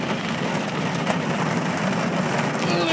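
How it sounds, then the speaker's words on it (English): Light rain falling outdoors, a steady soft broadband hiss of drops with faint background traffic rumble and no talking. "Please, rain, just stop so I can go inside."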